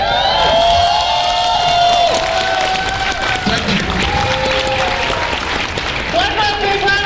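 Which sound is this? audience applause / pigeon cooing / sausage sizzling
audience applause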